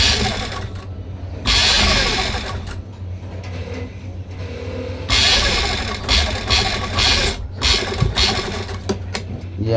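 A sewing machine stitching the neck of an angrakha garment, running in a few bursts of rapid mechanical whirring and rattling separated by short pauses, close by, with some handling noise and brief speech between runs.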